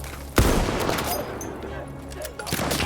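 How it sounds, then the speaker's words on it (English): An artillery barrage in a video game opens with one heavy, loud blast, followed by a sustained rumble of distant bombardment and a smaller shot near the end, with a voice faintly present. "The enemies are being halted by our artillery barrage."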